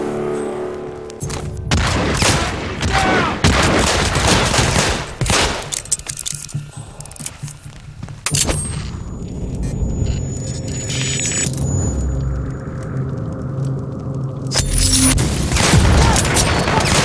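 Dense video-game gunfire with rapid bursts and heavy booms rolls through most of the clip, loud and close, with rumbling between volleys.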